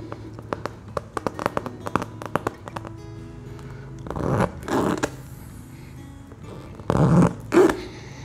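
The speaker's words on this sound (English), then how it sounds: "push the reaming tool in and out a couple of times to help open up that hole." A reaming tool worked in and out of a hole in a tire during a plug repair, giving a run of short close scraping clicks followed by a few louder rubbing, grinding bursts, with no talk.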